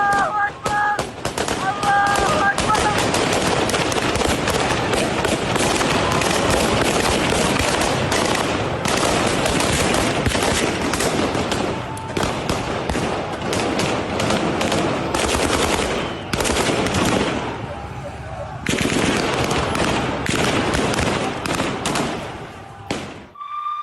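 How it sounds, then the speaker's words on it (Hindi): Sustained machine-gun fire during fighting in Syria rattles almost nonstop for over twenty seconds, loud and dense with brief lulls, mixed with scattered single shots and voices. "असद समर्थकों ने भी बरसाई हैं गोलियां।"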